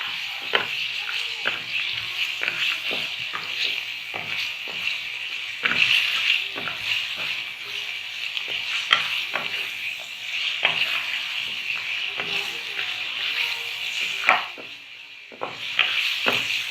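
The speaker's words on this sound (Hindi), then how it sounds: "इसको थोड़ी देर हमने गरम मसाले और अदरक लहसुन पेस्ट के साथ गोश्त को फ्राई करना" Mutton pieces frying with garam masala and ginger garlic paste for aloo gosht, a steady sizzle punctuated by repeated scraping stirs of a spoon in the pot, close and moderately loud.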